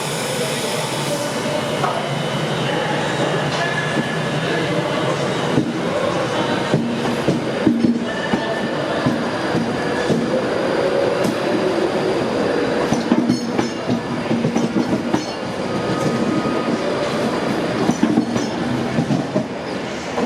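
A train rolls through platform 3 of Carlisle station with a loud, continuous rumble, rhythmic clickety-clack of wheels over rail joints and occasional wheel squeals, steady for the whole stretch.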